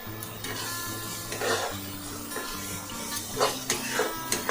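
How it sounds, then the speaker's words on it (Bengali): Chicken bharta being stirred with salt in a pan, a steady scraping and clinking of a utensil against the pan with a few louder knocks, over a low background hum. "নুন দিয়ে নাড়াচাড়া করলাম ভালো করে।"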